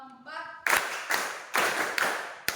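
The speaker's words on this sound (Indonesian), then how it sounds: "Tepuk 1, tepuk 2, tepuk 3, tepuk 4" A class of students claps a counted rhythm in unison: five sharp, evenly spaced group claps, each with a short ringing tail, following a brief spoken lead-in.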